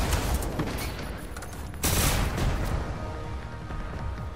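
Rifle fire from the video game Generation Zero, loud, with dense booming reports: a continuous rumble of shots, a sharper burst near the two-second mark, then steady firing to the end.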